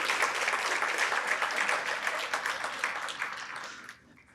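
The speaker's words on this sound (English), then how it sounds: "So one more round of applause, please, for everybody that's in here." A large audience at a community violence-prevention celebration applauds steadily, the dense clapping filling the room before tapering off toward the end.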